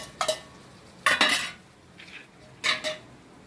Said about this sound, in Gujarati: હવે બટેકા નાખી દેવાના